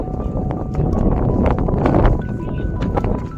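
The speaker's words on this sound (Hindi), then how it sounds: "बहुत तेज हवा चल रही है यहाँ पे, बहुत तेज।" Strong wind roaring across the open Skyline Trail at night, a dense buffeting rush that batters the microphone throughout.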